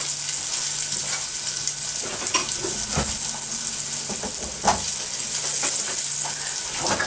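Battered mushrooms frying in a pan, a constant loud hiss and crackle of hot oil with a few soft clinks and shifts of movement, heard close with no talking.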